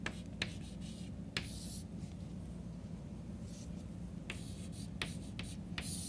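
Chalk or marker writing numbers on a board during a math lecture, soft scratchy strokes and light taps at an irregular pace, faint against room noise, with no speech.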